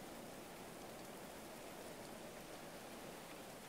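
Steady rain falls in the medieval colony-building game Going Medieval, a continuous soft, even hiss with no breaks and no speech over it.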